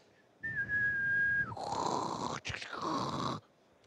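Metal drilling tool cutting through a workpiece with chips packed in its flutes, first a steady high whistling tone that shifts abruptly into a harsher, broadband grinding screech with a brief interruption, close and loud.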